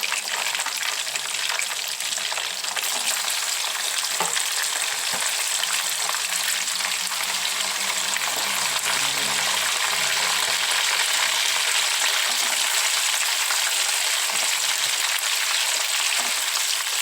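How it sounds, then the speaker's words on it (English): Turkey wings frying in hot oil in a pan, a dense continuous sizzle and bubbling heard close up throughout, with occasional faint clinks and no speech. "I will be adding the other ones too, so that they can also fry"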